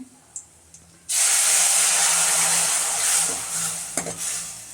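After a couple of soft clicks, a loud sudden sizzle erupts as garlic hits hot oil for a sambar tempering, crackling steadily with occasional stirring knocks.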